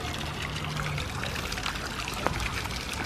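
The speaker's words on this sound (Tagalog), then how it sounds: "May marinig kayong tubig talaga" Water trickles and pours steadily at a low level, a continuous gentle flow with a soft background hum.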